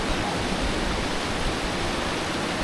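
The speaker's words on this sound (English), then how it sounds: "this is the upper part of the waterfall" The upper part of Moss Force, a Lake District waterfall, roars as a loud, steady broadband rush of falling water, close and unbroken throughout.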